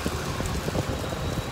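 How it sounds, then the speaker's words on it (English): Heavy tropical downpour in Bangkok beneath the BTS Skytrain steps: a constant loud roar of rain hitting hard surfaces, with irregular nearby splatters and no voices. "It's torrential rain."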